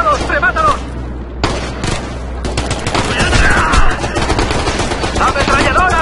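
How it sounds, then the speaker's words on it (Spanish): Bursts of automatic gunfire and single shots crackle in a Ghost Recon Future Soldier firefight, loud and dense, with shouted voices over the combat. "¡Disparan sin parar!"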